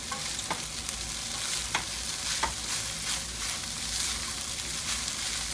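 Vegetarian fried rice with garlic being stirred in a frying pan, a steady sizzle with scraping utensil strokes at intervals, close and alone.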